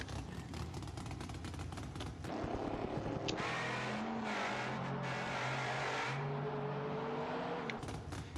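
A car in the BeamNG driving game makes a pass at full throttle, its engine roaring loud and steady throughout with rising revs and a brief tire squeal partway through, no talk.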